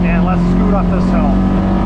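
A Polaris RZR Trail two-wheel-drive side-by-side climbs a hill on a narrow wooded trail, its engine droning loud and steady close by with a strong low hum throughout, while a person talks over it.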